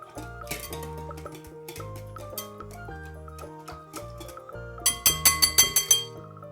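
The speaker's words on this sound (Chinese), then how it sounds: "充分的搅拌均匀，让酵母溶于牛奶里" A spoon stirs milk and yeast together in a glass bowl over soft background music. Near the end there is a quick run of about seven bright, ringing clinks.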